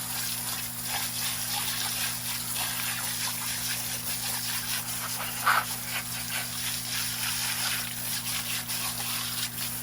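Garden hose water gushes steadily while rinsing out a pond filter, a continuous broad hiss and splash at close range with a brief louder spurt midway and no talking.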